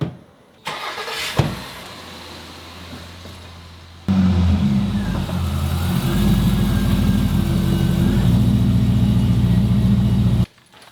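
A Corvette's engine drones steadily as the car drives, after a brief lower rumble and a door-like thump near the start; the cabin-level engine sound holds loud and even for several seconds before cutting off, with no talking.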